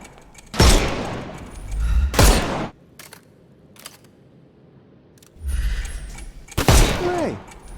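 Gunshots in the Sherlock Holmes Chapter One video game: a few sharp, loud blasts spaced apart, with softer clicks and scuffs between them and no speech.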